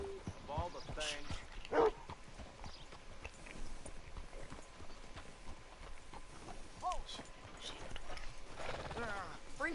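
Horse hooves clopping in Red Dead Redemption 2, with light, intermittent steps under game music and a few faint animal calls; voices speak briefly over the scene.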